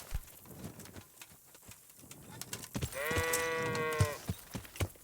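A sheep bleats once in a wavering, drawn-out call amid scattered footstep-like clicks and soft background noise, in the video game Kingdom Come: Deliverance.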